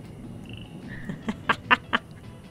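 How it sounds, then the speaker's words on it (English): Cartoonish frogs in the Two Point Campus video game land one after another with soft wet splats, four short bursts in quick succession over a low background murmur. "They sort of make a splat sound as they land."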